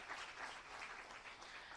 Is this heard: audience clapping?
yes